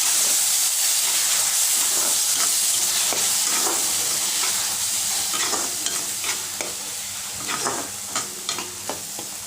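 Ginger-garlic paste and tomato stirred into frying fish curry in a pan: steady oily sizzle and hiss with repeated scraping stirs, loud at first and settling lower as the mixing goes on, no speech.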